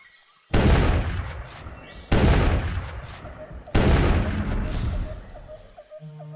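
Three heavy, booming gunshots from a large-calibre rifle in the dinosaur hunting game Carnivores Fallen Kings, evenly spaced about a second and a half apart, each with a long rolling echo tail.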